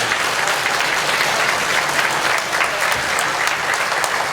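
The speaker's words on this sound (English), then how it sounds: "Let's give a round of applause for our family." A crowd at the Hmong Wausau Festival applauds loudly and continuously, a thick roar of many hands clapping with no pauses.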